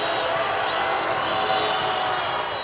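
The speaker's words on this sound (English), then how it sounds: "the crowd goes wild here in Halifax" Arena crowd at a Halifax Hurricanes basketball game roars loudly and steadily in the final minutes of Game 7 of the NBL Canada Finals, a dense, sustained wash of cheering and whoops with no break across the moment.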